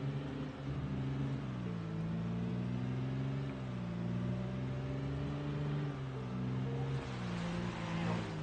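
A car's engine in the Project Zomboid game drones steadily, its pitch rising and falling gently as it drives along, with no other sounds over it.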